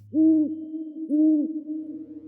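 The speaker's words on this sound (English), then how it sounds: "Large owls perched on telephone poles directly outside my bedroom window, hooting loudly." Two loud hoots from a large owl perched on a telephone pole outside a house at night. They come close together and are each drawn out, with a faint low hum behind.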